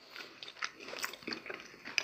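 Close, quiet bites and chewing on protein bread topped with melted cheese and pork loin, soft wet crunches and mouth sounds repeating irregularly, with no talking.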